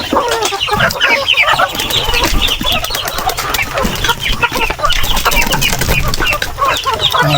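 Native chickens cluck and call in a busy yard, steady overlapping clucks with occasional wing flaps and other bird noise, fairly close and loud throughout, no talk.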